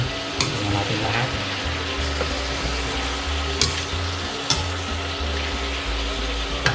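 Chicken adobo with pepper sizzles and fries in a pan while being stirred, a dense steady crackle with occasional spoon scrapes and clanks against the pan.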